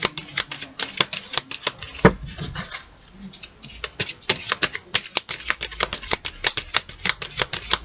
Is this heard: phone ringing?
no